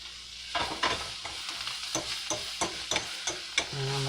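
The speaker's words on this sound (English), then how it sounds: "you saute up your vegetables" Vegetables sauteing in a hot pan, a steady sizzle broken by repeated scraping stirs at an uneven rhythm, close and fairly loud with no talking.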